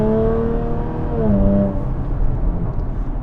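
Jaguar F-Type S sports car engine revving, a loud and steady sharp tone that climbs and then settles, heard close and alone with no talk.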